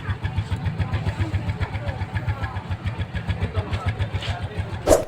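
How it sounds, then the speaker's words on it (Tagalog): A motorcycle engine idles close by with a steady, even throbbing beat, running throughout, with a short sharp noise near the end. "gusto natin pakinggan yung motor. Sound check lang tayo dahil napaka-crispy ng tunog nito."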